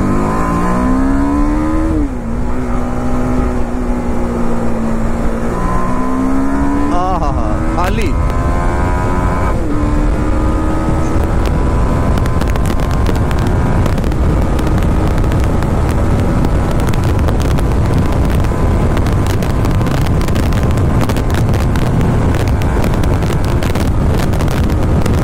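A BMW G310RR motorcycle runs fast on a highway, its engine climbing through gears in rising whines and then holding a loud, steady drone buried in heavy wind roar close to the rider.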